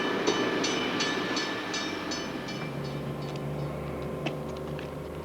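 A 1980 passenger train in South Australia rolls along standard-gauge rails with a steady, loud rumble and a light, regular clickety-clack of wheels over joints.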